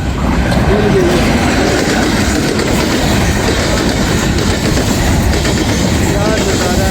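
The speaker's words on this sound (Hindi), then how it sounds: "और अभी एक माल गाड़ी का गुज़र होने वाला है" Freight train rolling through Sohawa railway station in Jhelum district, Pakistan: a loud, close, continuous roar of passing wagons with rhythmic wheel clatter and faint squeals.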